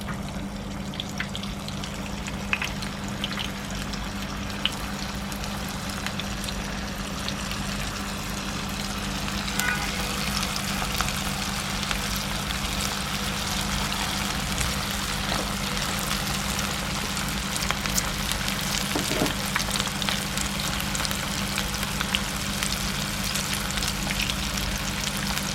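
Battered cauliflower pieces frying in hot oil, giving a steady bubbling sizzle with small crackles that thickens slightly partway through, over a constant low hum.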